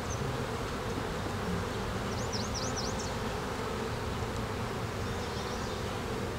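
Honeybees crowd a brood frame in an open hive where the queen walks near the top, giving a steady, dense, close buzzing hum that never lets up, with no voices.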